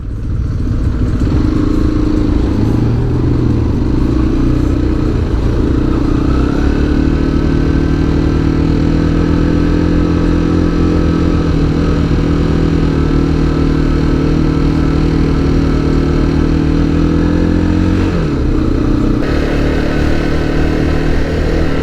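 A motorcycle engine running on a road in Sicily, loud and close throughout with a steady mid-pitched drone that shifts pitch as the rider changes speed, wind rumble underneath and no talking.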